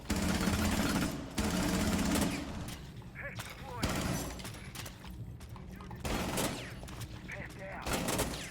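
Rapid bursts of gunfire in the tactical shooter game Rainbow Six Siege, loud and busy, with repeated volleys that come in clusters, mixed with other game sounds and a voice talking over the action.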